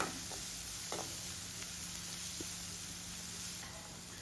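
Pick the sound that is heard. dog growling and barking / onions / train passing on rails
onions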